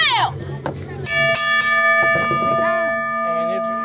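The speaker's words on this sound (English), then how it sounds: "And there goes the bell." A wrestling match bell clangs at a ring event, a bright metallic ring that sustains and rings on for a few seconds after a couple of sharp strikes, with voices in the background.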